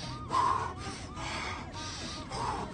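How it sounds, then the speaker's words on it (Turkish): Deep breaths in and out, taken slowly and repeatedly in a coaching exercise, with several long airy inhales and exhales that sound fairly close, over faint background noise. "Derin derin nefes alıyoruz bak."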